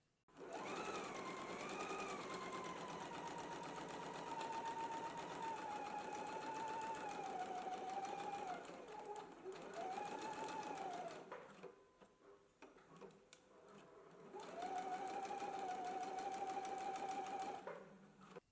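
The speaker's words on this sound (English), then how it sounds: "Let's go ahead and stitch both pockets now." Sewing machine stitching around the curved edges of garment pockets, running in long steady bursts with a changing motor whine, a short pause near the middle, then another sustained run.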